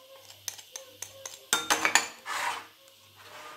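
A spoon clinks and scrapes in a bowl while powdered milk and cornstarch are stirred together: a run of light metallic taps, then a louder cluster of clinks and a brief swishing stir, with no talking.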